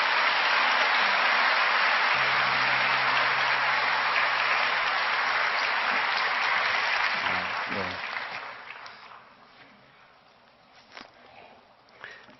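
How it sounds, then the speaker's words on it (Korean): Church audience applauding to welcome a guest speaker, loud steady clapping for about eight seconds that then fades to scattered claps and room noise. "우리 귀한 박수로 우리 이용표 집사님 환영하겠습니다."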